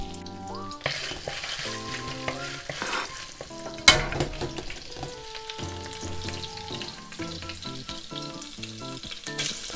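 Ginger frying in about two tablespoons of oil in a wok, a continuous crackling sizzle heard up close, with one sharp clatter partway through and softer stirring scrapes after it.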